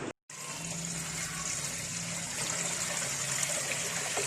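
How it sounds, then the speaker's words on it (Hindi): Water pours steadily into a cooking pot for a steamed mutton raan roast, a continuous close trickling gush that starts after a brief silence and runs without talk. "हम और पानी ऐड करें।"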